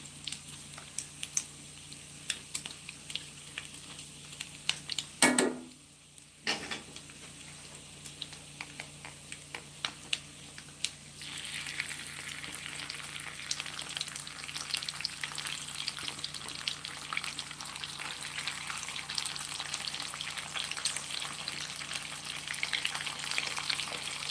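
Smoked pork jowl sizzles steadily in a skillet with crackling spatters, broken by a brief shuffling scrape as pieces are moved, and the frying grows louder and denser partway through.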